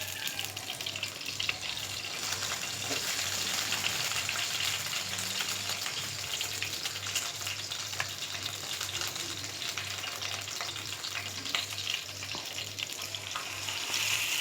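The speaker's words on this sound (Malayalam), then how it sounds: "അപ്പം അതിലേക്ക് കുറച്ച് കറിവേപ്പിലൊക്കെ ഇട്ടിട്ടാണ് ഞാൻ ഫ്രൈ ചെയ്യണത്." Curry leaves frying in hot oil for Kerala-style karimeen fry, a steady close sizzle and crackle holding evenly throughout with no talking.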